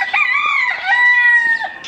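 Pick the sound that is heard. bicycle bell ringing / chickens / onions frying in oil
chickens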